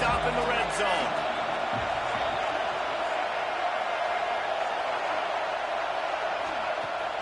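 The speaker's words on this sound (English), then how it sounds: "The crowd getting behind this defense as they try to get a stop in the red zone" Stadium crowd roaring in a college football video game as the defense tries for a red-zone stop, a dense, constant wall of cheering and noise that stays loud and even throughout, with a brief thump near the start.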